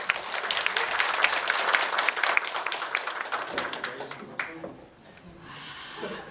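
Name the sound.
audience applause at a forum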